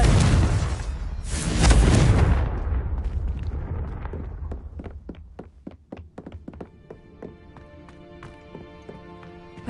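A Confringo blasting spell goes off with a loud, broad explosive burst. The blast fades into a string of sharp, separate taps and knocks that slowly thin out.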